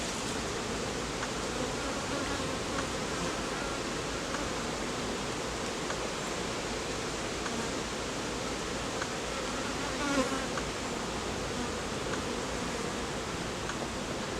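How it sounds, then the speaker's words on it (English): Honey bees swarm thickly around an open beehive, making a steady, dense buzz that fills the whole stretch. Close, even and unbroken, with individual bees flying past near the ear. "all these bees buzzing around my head"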